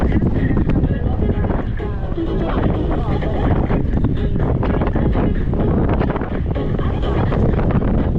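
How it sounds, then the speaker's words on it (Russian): Strong mountain wind buffets the microphone, a loud continuous low rumble and roar that swamps everything, with faint voices underneath. "Ветер дует, паршивец."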